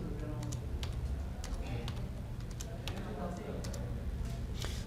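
A computer keyboard is typed on in quick, irregular bursts of clicks, fairly faint and close, over a steady background hum, with talking heard alongside.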